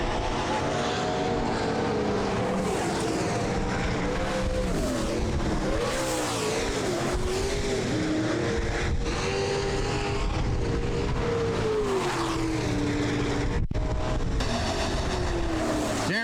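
Late model street stock race cars roar through the final lap of a heat race at a weekly oval racing series, engines loud, continuous and close with rising and falling pitch as the cars pass.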